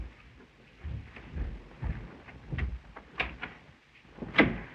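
Several soft, dull thumps on a door in a radio mystery drama, spaced irregularly over a few seconds, with the last knock the loudest, under a faint low background.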